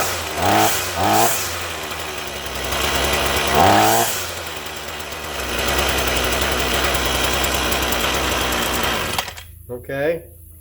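A Ryobi small gas engine with its stock muffler sputters through pull-start attempts, then settles into a steady, buzzy, close idle before cutting off near the end.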